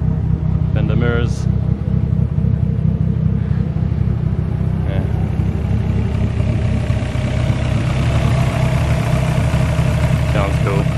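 Forced-induction Toyota AE86 engines, one supercharged and one turbocharged, rumble steadily and loudly at a circuit event, with a continuous low drone throughout and brief higher sounds over it.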